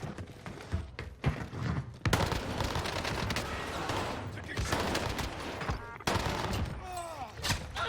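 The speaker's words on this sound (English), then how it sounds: "I'm under fire. Taking heavy fire here." Heavy gunfire in the Call of Duty Warzone video game, dense bursts of automatic and rapid shots almost continuously through the clip, loud and close, with brief lulls and some sharper impacts near the end.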